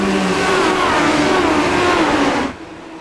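A race car accelerating past on a track during a 40-lap feature race, a loud, sustained mid-pitched engine roar with rising harmonics that cuts off abruptly near the end.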